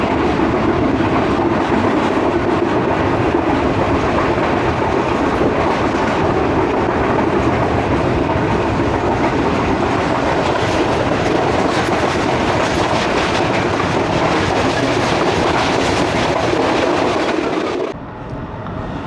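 Tezgam express train running fast through Gaggar Mandi at about 80, a loud, continuous roar of wheels on track with steady clickety-clack, heard from inside the coach until it fades at the end.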